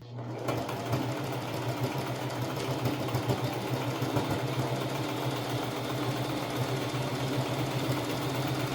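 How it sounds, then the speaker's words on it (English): A sewing machine runs a straight stitch along a flannel scarf with a quarter-inch seam allowance, a steady, close, fast mechanical whir that keeps up without pause for the whole stretch. "all the way down using a straight stitch and a 1/4 inch seam allowance"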